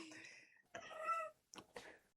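A kitten meows indoors, several drawn-out, fairly quiet mews with short pauses between them.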